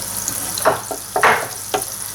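Butter melts in a hot pan for sisig, sizzling softly with a few short bursts of spatter and light scraping over about two seconds.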